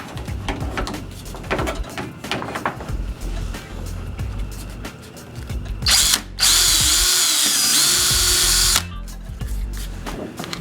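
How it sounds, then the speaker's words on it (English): A power drill bores a 3/16 pilot hole in a plastic feeder tank. Scattered handling knocks come first, then a loud steady whine of the drill running for a few seconds nearby. "I like to drill a 3/16 pilot hole first and then expand out to 3/8."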